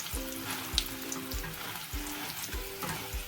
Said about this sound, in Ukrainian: Обсмажую їх до золотистої скоринки. Мої баклажани вже готові. Я вже активно перемішую їх лопаткою.